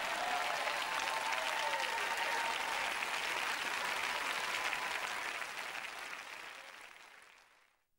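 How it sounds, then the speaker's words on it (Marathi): Audience applause at a talk by Joyce Meyer, steady and dense for most of the stretch before fading out toward the end, with no voices over it. "ज्यासाठी लोक आता टाळ्या वाजवतायत"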